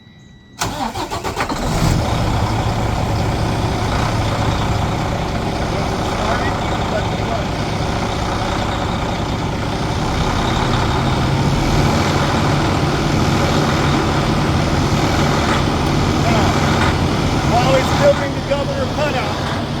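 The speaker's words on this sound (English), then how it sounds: "Now I'm going to start my truck." A truck engine cranks and fires, then settles into a loud, steady, rumbling idle that continues while building air pressure toward governor cutout, with someone talking over it.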